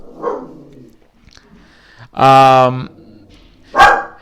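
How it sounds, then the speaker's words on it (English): A dog barks in a loud, harmonic burst lasting about half a second, with a second sharp bark coming near the end. A person speaks quietly before the barks. "I believe there is a high likelihood that Falkor will bark in the middle of my presentation"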